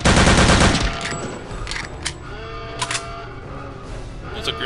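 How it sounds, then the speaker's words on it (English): A grenade in Return to Castle Wolfenstein explodes loudly and close in a single heavy blast, followed by ringing and sporadic sharp clicks and shots as the noise settles. "That's a grenade went off near me."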